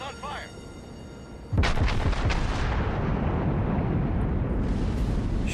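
A Nagato battleship's main guns in World of Warships let off one loud, deep salvo that booms suddenly and then rolls on in a long, rumbling tail, with a voice talking over it.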